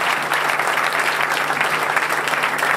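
A crowd claps hard and continuously, a thick, even roar of many hands that stays loud throughout with no talk over it.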